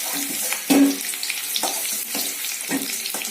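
Potatoes fry in hot white oil in a kadai, giving a steady sizzle with a few louder clattering stirs and scrapes as the pieces are moved. No one speaks.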